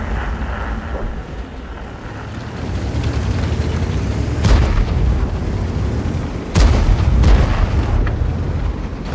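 Heavy tank cannon blasts boom twice in World of Tanks over a constant rumbling engine drone, each shot a sharp loud burst.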